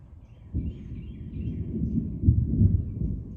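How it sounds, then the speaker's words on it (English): Deep, rolling thunder from a storm rumbles low and continuous, swelling louder partway through and peaking near the end, with no voices over it. "The thunder's getting worse and Abby's not liking it, so."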